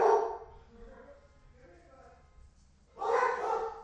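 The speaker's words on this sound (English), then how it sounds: "There's dogs freaking out." A dog barks and yelps at the start, quiet murmuring follows, then another burst of agitated barking near the end.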